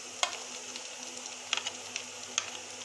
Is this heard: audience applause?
no